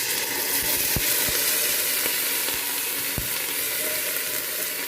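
Rice added to fried onions in a pan for chicken biryani: a steady, dense sizzle of frying fills the whole stretch, with a few soft clicks and taps from stirring, close up and without speech.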